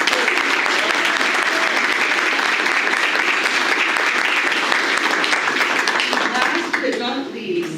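A room of guests at a community awards dinner breaks into loud, sustained applause, a thick continuous roar of many hands that begins to thin and fade near the end.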